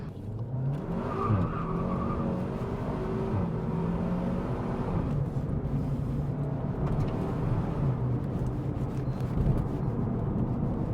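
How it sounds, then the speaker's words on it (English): A tuned SEAT Cupra 290 is driven hard through corners, its engine droning and rising in pitch as it accelerates, with tyre noise, recorded close from inside the car for about eleven seconds. "On the power through the corners, this car, it just powers round."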